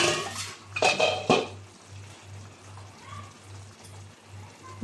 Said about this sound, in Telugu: ఇప్పుడు నేను దీన్ని సర్వింగ్ బౌల్లో తీసుకుంటున్నాను